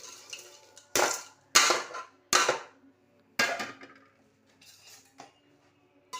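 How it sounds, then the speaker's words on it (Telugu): Spoon clatter against a metal bowl while fried ingredients such as peanuts and roasted gram are tossed into a poha mixture: several sharp, separate clinks and scrapes with short pauses between them, close and fairly quiet. "ఇవన్నీ ఇప్పుడు మనం ఈ అటుకుల్లో కలిపేసేయాలి."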